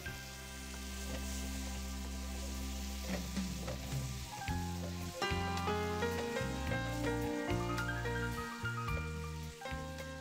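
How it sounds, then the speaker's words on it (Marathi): Tomato puree and garam masala are sautéed in a pan, giving a steady low sizzle with occasional stirring under continuous background music. "परतून घेतोय तेच आपण त्यामध्ये टोमॅटो प्युरे टाकले."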